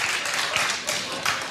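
A talk-show studio audience claps briefly in a loose, moderate burst, the clapping continuous but not loud, with faint voices mixed in.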